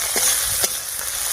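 Chopped tomato sizzling with onions in a pan during preparation of a shol fish curry, a steady close hiss with a couple of brief stirring scrapes, no talk.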